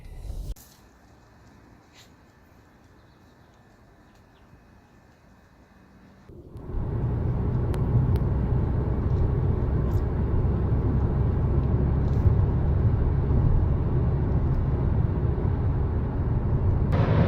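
Steady interior road noise from a moving car: after a quiet cabin stretch, a loud, constant low rumble and tire roar swell in and hold evenly to the end.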